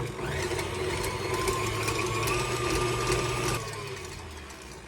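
An electric mixer fitted with a whisk attachment whips cream to stiff peaks with a steady motor whir and rattling hum, close and continuous, easing off slightly near the end, with no talk.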